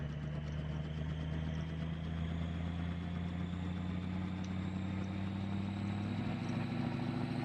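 Twin-turbo 6.0 race truck engine with a lopey, choppy tune rumbles steadily at close range in Farming Simulator 22, a loud continuous low idle with uneven pulsing throughout.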